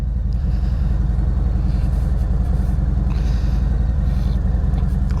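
A Harley-Davidson Fat Bob motorcycle engine rumbles loud and close, a steady low drone with wind rush and no pauses.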